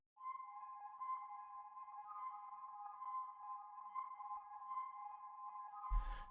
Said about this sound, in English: this it's a little pad that's made of like flutes